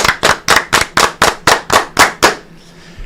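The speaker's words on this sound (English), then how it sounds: "10 claps" Ten evenly spaced hand claps ring out in a steady rhythm, loud and close, a crisp clapping sound effect played for a paid live-stream super chat, ending in a short quiet tail.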